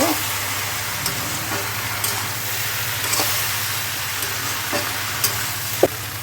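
Onion fries with cumin powder and turmeric in a pan for an okra-potato curry, a close, steady sizzle broken by rhythmic scraping stirs about once a second and a sharper knock near the end.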